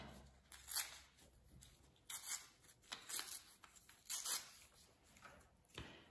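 Close, quiet rips and crinkles of paper being torn in several short bursts, with soft handling noises between them.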